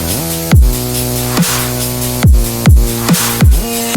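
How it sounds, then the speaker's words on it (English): A synth bass in an electronic music drop, layered for lows and mids, with a sustained buzzy harmonic tone punctuated by several deep pitch-dropping hits in a loose rhythm, loud and with no voices. "So now we have the bass sound."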